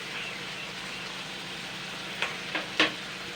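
Chopped onion and tomato fry with salt, sugar, turmeric and chili powder in a steady hissing sizzle, then three sharp stirring scrapes land near the end, no voices.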